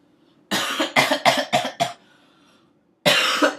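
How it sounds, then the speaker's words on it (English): A person coughs close to the microphone in a quick run of five harsh, loud bursts. After a short pause, one more cough follows. No one talks. "I'm sorry about me coughing"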